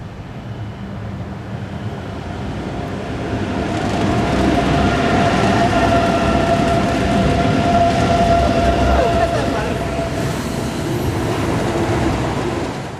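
A pair of BLS Class 465 electric locomotives hauls a northbound train of lorries from Italy off the Alton line, a steady loud rumble that swells midway and holds as the train passes close by.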